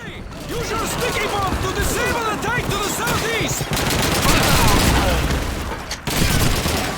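A German gun fires in Call of Duty 2, with rapid, loud bursts of gunfire running almost continuously over a dense wartime battle din.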